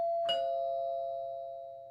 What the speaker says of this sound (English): They heard the sound of the doorbell ringing from the other room.